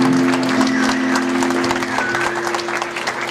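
Church congregation applauding during a worship service, a dense, steady wash of many hands clapping together at moderate loudness with a sustained organ or keyboard tone underneath.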